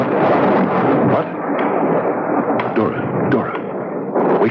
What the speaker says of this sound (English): It's only the storm, dear.